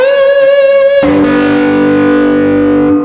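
A bright distorted guitar note rings, then shifts abruptly into a buzzy, messy wash of unmuted open strings sounding together, loud and sustained.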